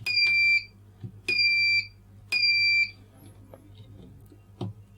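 A 5-30 minute timer circuit kit's buzzer sounds three loud, shrill electronic beeps, each roughly half a second long and about a second apart, followed by faint clicks and low background hum.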